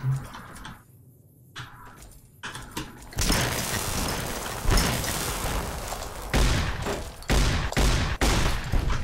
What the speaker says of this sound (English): Oh, Tesla cannon.